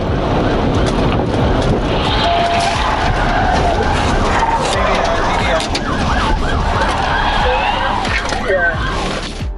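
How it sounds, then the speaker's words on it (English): A Malibu spins out during a police chase and crashes into a concrete parapet, with loud tire skidding, road roar and impact noise. A siren wails in the background. "The TVI maneuver successfully forced the Malibu to spin and crash into a concrete parapet"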